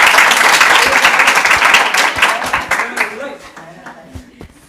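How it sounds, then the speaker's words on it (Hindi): Audience at an inter-college quiz contest bursts into loud, dense clapping that holds steady for a few seconds, then thins out and fades, with a voice speaking faintly underneath. "ऑडियंस अपने लिए ताली बजा लें।"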